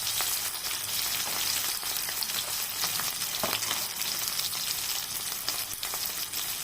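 Cardamom, cinnamon, cloves and salt fry in hot oil in a pan, giving a constant loud sizzle with light stirring scrapes and no talking.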